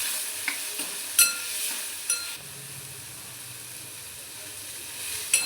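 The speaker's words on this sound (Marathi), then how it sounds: "थोडं थोडं टाकून हे मी मिक्स करून घेते।" Dill leaves (shepu) with a pinch of turmeric being stirred in a frying pan, giving a soft steady sizzle and hiss with a few light scraping clinks of the spoon, close and fairly quiet, with no talking.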